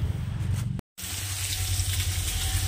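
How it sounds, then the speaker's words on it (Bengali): Tap water runs and splashes loudly while small fish are rinsed in a kitchen sink. There is a brief cut partway through, after which the steady gushing continues. "তো এবার আমি মাছগুলো ধুয়ে আনি।"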